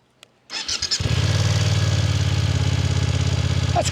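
A 2025 BMW F900R motorcycle engine cranks and fires up, then settles into a loud, steady, throbbing idle burble heard close from the rider's seat.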